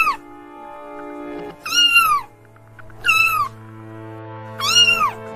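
A kitten meows three times, each a clear, rising-and-falling cry, with short pauses in between, heard close over a faint steady background hum.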